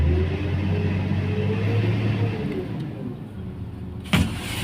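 A crane's engine, throttled by a hand accelerator, holds a steady, loud, low hum that shifts in pitch partway through as the revs change, with a brief clatter near the end.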